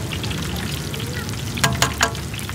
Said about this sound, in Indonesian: Oh, ini goreng tahu ya?